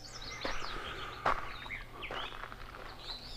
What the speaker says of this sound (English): Waking up to the sound of the birds chirping